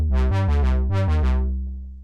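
Synth 2 of a Moog-style synth plugin plays a short run of six plucky, bright notes with filter-swept attacks over a thick low bass, loud and close, then decays into a fading tail.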